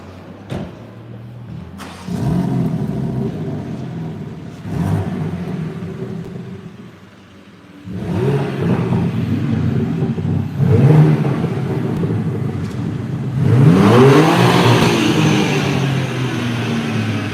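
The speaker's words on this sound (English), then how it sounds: "We really appreciate those revs." BMW M4 engine at a live launch event, idling then blipped in several rising revs, with a rumbling exhaust swelling and falling back, close and loud near the end.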